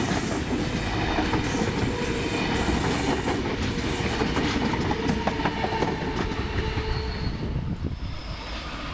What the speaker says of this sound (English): the double-deck intercity train is also heading its way to the South Coast